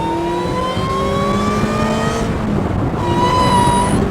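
An Ariel Atom 3.5R track car engine accelerates loud and close with a steady rising roar that shifts pitch partway through, no voices over it.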